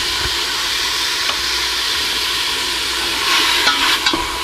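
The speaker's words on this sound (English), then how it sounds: "The first step is getting your meat prepared. Getting it browned." Ground meat browning in a pan for school cafeteria spaghetti, a steady loud sizzle close up with occasional scrapes and stirring taps against the pan, no talking.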